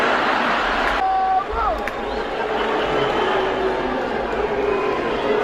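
A comedy show audience keeps up a continuous loud crowd noise of booing and jeering, a dense wash of many voices throughout.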